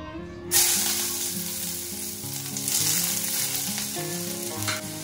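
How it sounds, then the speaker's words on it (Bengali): Onion, cashews, garlic and green chilli hit hot oil with a loud burst of sizzling that settles into a continuous close hiss and crackle, while a tonal background hum runs beneath it. "পেঁয়াজ, একটু কাজু আর রসুন আর কাঁচা লঙ্কা একসাথে ভেজে নেব।"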